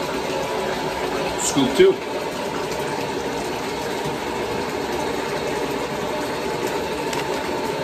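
Water pours steadily into a bathtub being filled to clean hockey equipment, a constant close rushing hiss from start to finish, with someone speaking briefly over it.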